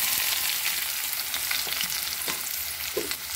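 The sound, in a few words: chopped onion frying in hot oil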